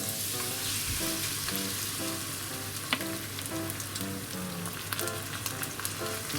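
Korean pancake batter with pork sizzles in rice oil in a frying pan over medium heat, a steady close crackling and hissing with faint spatters throughout, alone without talk.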